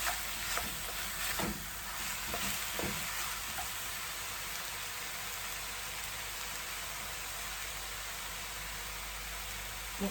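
Jamaican-style chicken stir fry with vegetables frying in a pan, a steady close hiss that runs unbroken throughout, with a few soft clicks of stirring near the start.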